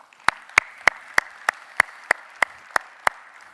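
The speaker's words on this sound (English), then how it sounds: "I would like to extend my gratitude and a big round of applause to the organizing team" Steady, evenly spaced claps, about ten sharp slaps at a regular rhythm, close by and fairly loud, with a soft crowd murmur underneath.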